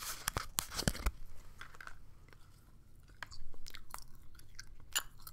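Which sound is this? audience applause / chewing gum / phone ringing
chewing gum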